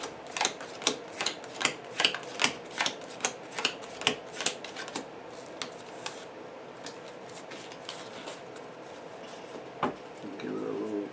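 Cards from a deck in a Marvel Champions tabletop game are riffle-shuffled close by, a quick series of crisp, snappy bursts that grow sparse and fade toward the end.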